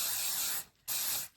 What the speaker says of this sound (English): So I'm just going to spray this lightly